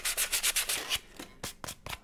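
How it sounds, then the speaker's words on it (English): Sandpaper is rubbed along the edge and top of a small box being made into a coffin-shaped pencil case, giving a quick run of close, raspy back-and-forth strokes and then a few separate rubs. "Then we use a sandpaper to sand it nice and smooth along the edge and around the top."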